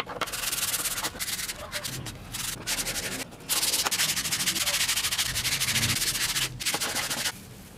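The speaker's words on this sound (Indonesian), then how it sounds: "Sekarang kita amplas dan kita vernis. Amplasnya kita pakai amplas halus aja ya." Repeated sanding strokes of fine sandpaper rasp across a scrap-wood egg holder in quick back-and-forth bursts, close up, with a couple of brief pauses between passes.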